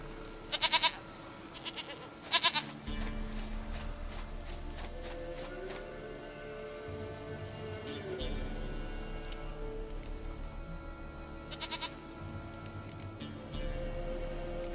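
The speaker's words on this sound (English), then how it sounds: "Goat of mine, dearest, sweetest goat." Short, close goat bleats sound in The Witcher 3: Wild Hunt, two quick cries at the start and more scattered through the middle and end, over a low steady game ambience with soft thumps.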